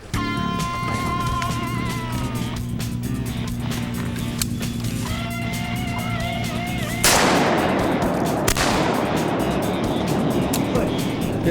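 Hunting rifle shot on a farm hunt, one sharp loud blast cutting through steady ambient noise and birdsong, with a second crack soon after and a lingering rumble.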